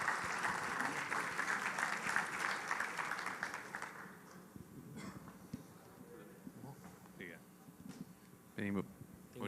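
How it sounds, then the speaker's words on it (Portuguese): A conference audience at a Brazilian e-commerce event claps steadily and fairly loudly for several seconds as speakers are welcomed onstage. The applause then fades away and leaves sparse room noise, a few knocks and some nearby talk. "palmas para eles"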